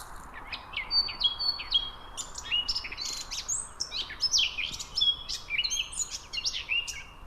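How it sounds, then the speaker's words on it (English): A male blackcap sings in a country park, pouring out bright, varied warbling phrases in a steady run. The song stays clear and fairly close over soft background hiss, with no voices. "the next one on the stage is the blackcap, which has an even more wonderful song"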